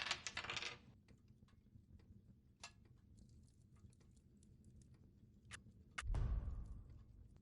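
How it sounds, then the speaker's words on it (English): Two dice rolled in an interactive dungeon video game: a quick, faint clatter of small hard clicks and taps that scatter and settle, with a louder bump near the end. "This will be determined by rolling 2 dice and adding"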